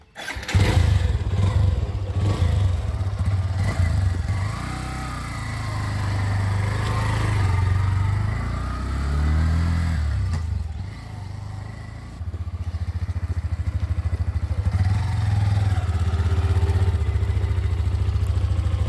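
A Hero Xtreme 125R motorcycle being ridden, its engine running steadily and close with a low throbbing drone that dips briefly around the middle before picking back up.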